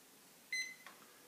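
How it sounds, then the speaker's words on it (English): A Vulture Systems V4.0 handheld unit set to sensor shutdown mode gives a short electronic beep followed by a couple of fainter chirps, quiet and isolated. "he starts chirping. That's basically saying I'm in sensor shutdown mode."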